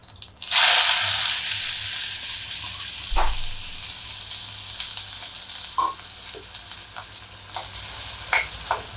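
Chopped onion dropped into hot oil with cumin and asafoetida bursts into a loud sizzle that settles into steady frying, with a few scrapes and knocks of stirring, close up and no talking.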